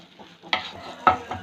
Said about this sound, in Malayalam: കുറച്ച് മുളക് പൊടി ഇട്ട് സോട്ട് ചെയ്യുക.